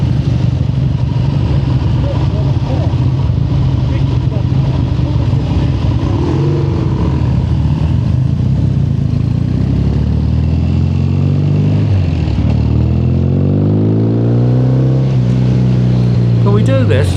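Triumph Bonneville and Trophy motorcycles, one with a high-level exhaust, roar nearby, building and then sweeping past with a rising and falling pitch as the bikes ride by.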